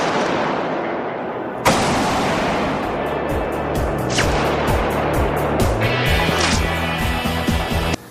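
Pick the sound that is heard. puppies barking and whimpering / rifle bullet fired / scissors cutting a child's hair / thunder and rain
rifle bullet fired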